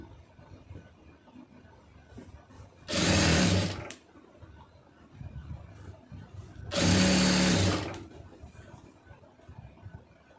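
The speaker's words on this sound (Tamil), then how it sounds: "அதனால் நம்ம அதிலே தையல் போட்டிருக்கோம்" Two distinct bursts of a sewing machine stitching a blouse cross piece, each lasting about a second, heard up close with faint room noise between them.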